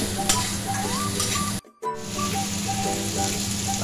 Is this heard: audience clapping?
no